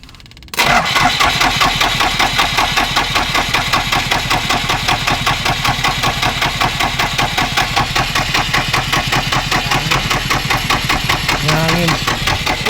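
A heavy diesel engine of a PC20 backhoe cranks and catches, then settles into a loud, steady, knocking idle that runs on without pause.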